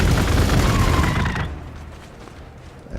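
Unit gunfire in the turn-based strategy game Warhammer 40k Gladius: Relics of War, a loud burst of rattling shots and booms for about a second and a half, then fading to quiet.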